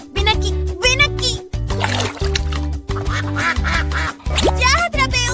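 Ducks quack loudly and repeatedly in a children's cartoon about a magical trip through a world of sweets, with a voice chattering over and between the calls.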